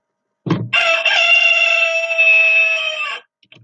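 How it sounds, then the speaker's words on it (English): A rooster crows once, loud and close, a long drawn-out call lasting nearly three seconds, preceded by a short rustle. "Just then the rooster crowed."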